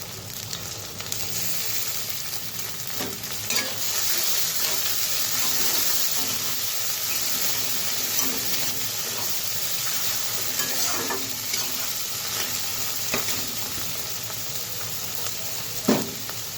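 Ginger, green chillies and tomato fry in a pan for a paneer and chana dal dish, giving a steady, dense sizzle with the scrape and clatter of stirring throughout. No one speaks.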